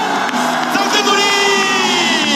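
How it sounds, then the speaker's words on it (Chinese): A baseball stadium crowd erupts into loud, sustained cheering and whooping during an MVP award moment, a dense wall of voices with scattered shouts and claps throughout. "掌声鼓励！"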